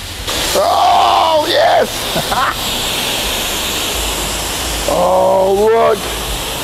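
A car wash rinse cycle sprays water in a steady, broad hiss under excited voices and sung or exclaimed phrases that come and go.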